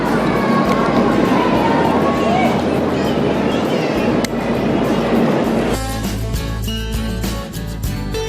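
Steady rumble and rattle of a train rolling along rails in Java, Indonesia, with a busy crowd murmuring throughout and a deeper, heavier clatter in the final seconds.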